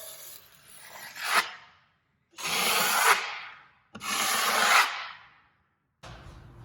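Three rasping strokes of light hand sanding on drywall joint compound over a patched wall crack, each a rising scrape that stops abruptly, separated by short pauses, close and fairly quiet.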